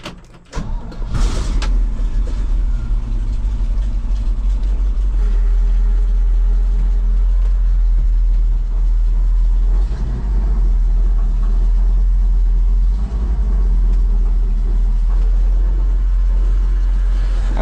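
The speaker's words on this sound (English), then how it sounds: "I'll run the bed up a wee bit here." A grain truck's engine idles with a deep, loud, steady rumble while the hydraulic bed is raised, a brief clatter at the start, then continuous drone throughout.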